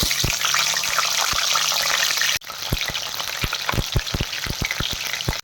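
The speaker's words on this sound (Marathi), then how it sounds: "आता आपण हे फ्लावर आहेत ते तळून घ्यायचे" Cauliflower florets fry in hot oil for a masala rice dish, a dense continuous sizzle with sharp pops and crackles, briefly dipping midway then resuming with frequent spattering bursts, close and loud.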